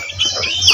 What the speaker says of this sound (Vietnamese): với đầy tiếng chim hót cho cuộc sống thêm yêu thương